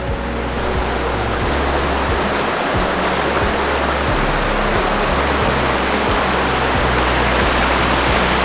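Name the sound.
Yarra river rushing in flood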